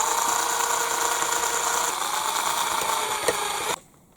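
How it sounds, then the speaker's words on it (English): A very long drill bit bores into the chassis of a Bruder CAT excavator model during an RC conversion, giving a steady, loud, high-pitched whine for over three seconds before it cuts off abruptly, with no talking. "I have this one very long drill bit and I'm going to use that."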